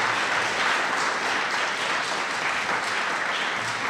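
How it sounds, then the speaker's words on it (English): Steady applause from an audience at a chemical plant rule signing ceremony, dense and continuous clapping filling the room with no talk over it. "A big round of applause for you, sir."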